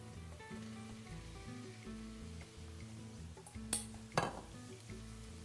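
Cooked boudin sausage broken up in a pan outdoors, with faint clinks and scrapes of a utensil against the pan over a low steady sizzle, two sharper knocks standing out near the end.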